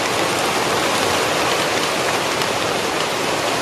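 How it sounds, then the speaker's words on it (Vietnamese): Steady, dense rain with wind falls outdoors in Sóc Trăng, Vietnam, a constant hiss with no pauses and no voices. "mưa gió."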